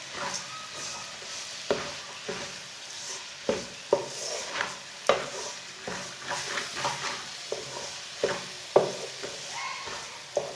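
A spoon stirring carrot halwa in a pan with sugar, chopped coconut and raisins: soft sizzling under repeated scraping and tapping strokes against the metal, at an irregular rhythm, close by with no talk.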